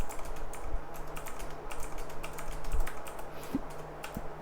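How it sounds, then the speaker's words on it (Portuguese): Rapid, continuous typing on a computer keyboard, a dense run of close clicking keystrokes with no speech. "Tá vendo que eu estou digitando menos 3 infinitamente?"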